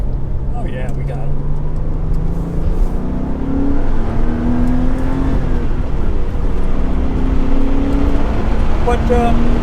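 A 1995 Porsche 911 (993) Cabriolet accelerates on the road past a truck, its engine note climbing in repeated rising sweeps, heard from inside the car under steady road and wind noise.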